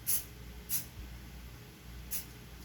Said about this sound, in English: I'm trying not to spray the outside too much.